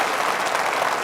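Conservative party conference audience gives dense, even applause at close range during a David Cameron speech, a continuous wash of many hands clapping over about a second.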